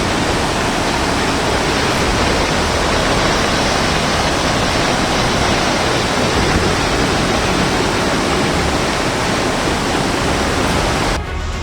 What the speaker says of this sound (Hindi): पानी का प्रवाह ऐसा था मानो वो सब कुछ बहा ले